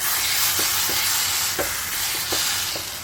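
Mashed brinjal bharit fries in oil in a pan, a steady close sizzle broken by a regular run of short scraping stirs from a spatula.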